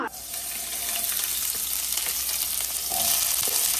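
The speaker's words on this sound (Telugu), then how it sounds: "ఉల్లిపాయలు వేసుకుందామా." Onions frying in a pan, a dense continuous hiss of sizzling oil that holds steady and swells slightly toward the end, with a few faint scrapes underneath, close by and without speech.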